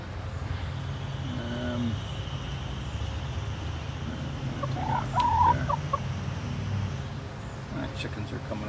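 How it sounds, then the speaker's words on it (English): Backyard chickens clucking close by, several soft short calls rising mid-clip over a steady low hum of outdoor noise, with no talk over them. "My chickens are coming over to help out"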